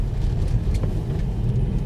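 Tesla Model 3 on studless tires accelerating on an icy road, heard as a low, steady rumble and road noise from inside the car, close and fairly loud.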